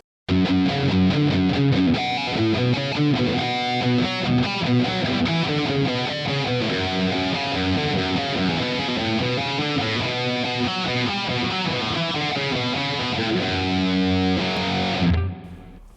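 Heavily distorted electric guitar through a Positive Grid Spark Mini amplifier's distortion preset plays a continuous riff with sustained, gritty chords and driving rhythm, loud and up front, then cuts off near the end.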